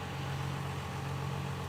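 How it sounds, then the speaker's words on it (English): A ramp truck's engine idles at about 400 RPM, a steady low rumble that stays even and continuous throughout, with no voices. "Says it's idling at 400 RPM."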